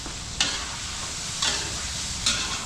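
Garlic, onion and chicken breast sautéing for pancit bihon in a restaurant kitchen, a steady frying hiss broken by three sharp stirring scrapes at even intervals, no voices.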